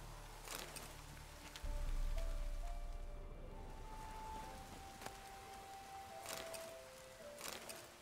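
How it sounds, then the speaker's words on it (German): Steady rainfall from the video game The Witcher 3 Wild Hunt, a soft, even wash of drops pattering on surfaces with a few brief rustles, moderately quiet and continuous throughout, with no voices. "Sieht nach Regen aus."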